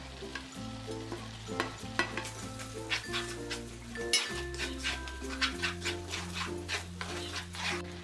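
Chopped green chili and coriander are stirred into a frying pan, with a quiet sizzle under repeated scraping and clinking strokes of a spoon, some way off.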